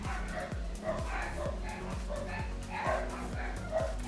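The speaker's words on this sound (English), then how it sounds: "And you can hear my dogs barking." Several dogs barking indoors at home, a steady run of roughly eight or nine sharp barks about every half second, at moderate distance, with no speech.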